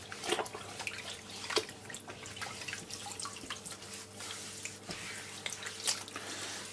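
Running water rinses old stain off a wooden gun stock during refinishing, a steady close splashing and trickling wash with scattered drips and spatters throughout.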